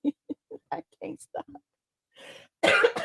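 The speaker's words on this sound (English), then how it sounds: "Excuse me, I'm coughing." A man coughs in a rapid series of short, close coughs, then clears his throat and briefly voices some louder sounds at the end.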